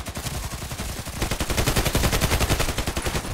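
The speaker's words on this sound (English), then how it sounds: "Looks like a real machine gun." Rapid automatic machine gun fire in the shooter game Contract Wars, a loud sustained rattle of closely spaced shots that grows denser and stronger after the first second, with no voices over it.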